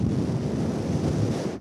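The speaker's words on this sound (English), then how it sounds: "If you blew into the condenser mic like this" Breath blown straight into a condenser microphone gives a loud, rumbling, windy roar that holds steady for about a second and a half, then stops.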